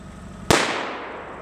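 A single large firecracker bursts with a sharp, loud bang that trails off into a fading rumble, with no voices around it.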